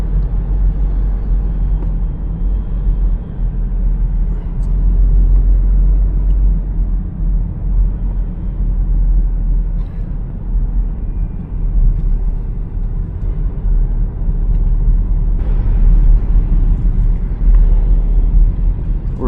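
Steady low road rumble of traffic heard from inside a car in slowing traffic along Daang Hari, Manila area, a continuous engine and tyre drone with no talk.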